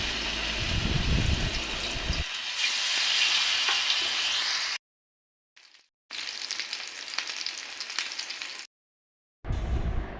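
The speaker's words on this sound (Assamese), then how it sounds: "মিঠাতেলখিনি গৰম হোৱাত এতিয়া মই বেঙেনাখিনি দি দিছোঁ।" Brinjal pieces frying in hot mustard oil give a steady loud sizzle that breaks off twice into silence and then resumes.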